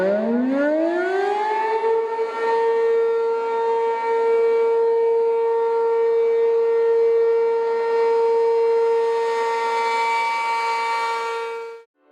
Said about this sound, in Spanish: en el siglo XIX, surgió una nueva tecnología, la sirena.